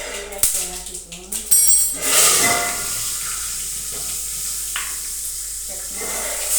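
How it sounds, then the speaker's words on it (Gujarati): Mustard seeds, cumin and asafoetida sizzle in hot oil, a steady frying hiss lasting throughout with sharp clatters and stirring noises near the start, and a voice speaking over parts of it. "રાઈ જીરું થઈ જાય તો નાખીશું હિંગ"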